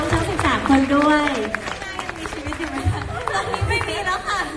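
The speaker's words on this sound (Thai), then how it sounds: "ขอเสียงปรบมือให้กับน้องๆทั้ง13คนด้วย" A crowd at a Thai fan meet claps and cheers for thirteen young performers. Brief applause mixes with crowd chatter, and voices talk over it.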